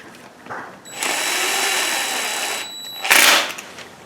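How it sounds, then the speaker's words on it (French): A cordless screwdriver runs up bolts on a 2012 Nissan Versa intake support to roughly 10-12 Nm, one sustained close whir of about two seconds after a brief blip, followed by a short sharp ratcheting burst. "Coupe de serrage approximatif avec la visseuse"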